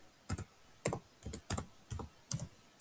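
Typing on a computer keyboard: several close, crisp clusters of keystrokes tapped in short, uneven bursts, with quiet gaps between them and no other sound.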